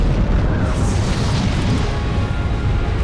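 A strange, heavy explosion in the war game War Front: Turning Point gives a loud, sustained rumbling boom that rolls on without letup, with no voices over it.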